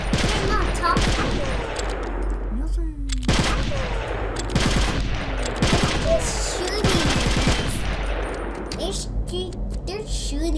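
Rapid volleys of gunfire from the Metal Gear Twin Snakes video game: dense, overlapping shots and bursts with clanging impacts, loud and continuous throughout.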